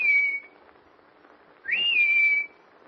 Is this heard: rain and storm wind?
no